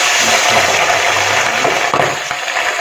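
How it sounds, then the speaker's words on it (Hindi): Fish dropped into very hot oil in a kadhai crackles and sizzles loudly and steadily, a dense close-up frying hiss with a few bubbling pops. "अब इसमें हम डालेंगे फ़िश। ऑयल फुल गर्म है।"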